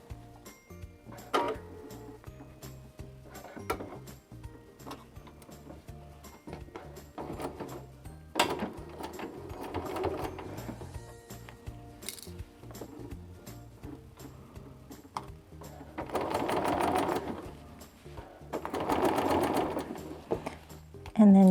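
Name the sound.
sewing machine stitching haori lining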